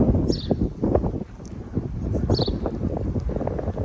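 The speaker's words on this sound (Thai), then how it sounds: "ลมมาละ เริ่มลมเริ่มแรง" Gusty wind blowing outdoors in Helmsley before rain, buffeting the microphone in steady rumbling gusts throughout, with faint bird calls in the background.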